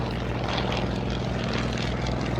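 Propeller warbird aircraft flying over the AirVenture airshow grounds, a loud, steady droning engine roar with a throbbing low pulse and broad noisy wash, sustained and close throughout.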